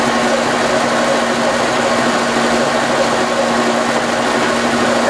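Steady, loud machining drone of a lathe or mill cutting a steel tractor drive hub at 153 RPM, with a constant hum and tone and broadband cutting noise running unbroken throughout.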